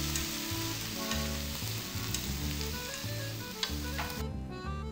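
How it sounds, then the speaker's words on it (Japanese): Stir-frying of ginger, garlic and other ingredients in olive oil in a frying pan, a steady close sizzle with scraping stir strokes and an occasional sharp clink, with music playing underneath and no talk. "フライパンにオリーブオイルと生姜、ニンニクを入れて材料を炒めていきます。"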